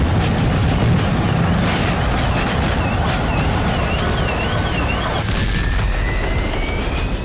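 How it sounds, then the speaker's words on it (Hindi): Serial blasts from missile strikes on the Ukrainian city of Dnipro come as a dense continuous barrage of booms and rumbling detonations, loud and sustained, with a faint wavering siren-like tone running through it. "इसके कुछ ही सेकंड बाद यूक्रेन की धरती पर सिलसिलेवार धमाके होने लगे।"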